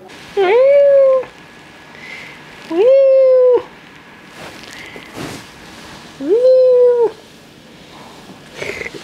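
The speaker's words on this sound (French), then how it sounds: "Et les chats, ils sont au milieu, ils ont même pas peur." Cats meow repeatedly in an outdoor eating spot in Adrar, Algeria, three loud, drawn-out cries spaced a few seconds apart with quieter background noise between them.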